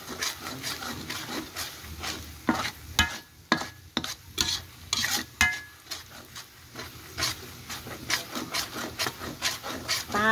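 Pangasius fish frying with garlic and pepper in a pan gets stirred steadily for several seconds, a close, continuous scraping and rubbing of the utensil over a loud sizzle, with no talk.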